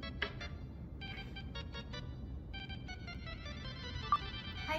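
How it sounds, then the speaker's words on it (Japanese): A mobile phone ringtone plays at moderate level, a steady melodic electronic tune with repeating bright tones, heard close by with no talk over it. "電話鳴らし ちゃった"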